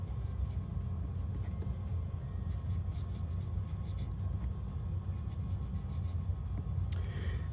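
Fine stainless steel Schmidt nib on a Muji fountain pen scratching across paper, a soft continuous close scratch under low steady rumble, no voices.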